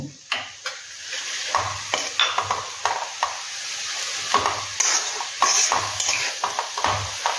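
Fenugreek greens are stirred in a pan, with repeated close scraping strokes of a spatula over a light sizzle, loud and rhythmic with short pauses.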